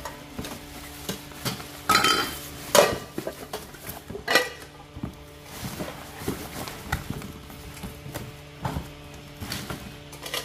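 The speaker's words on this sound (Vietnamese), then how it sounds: "Cái bộ nồi này cầm của nó rất chắc tay." Metal pots from a Kasai Villa cookware set are handled close by, giving a run of irregular clanks, taps and knocks against one another over a low background hum, with no talking.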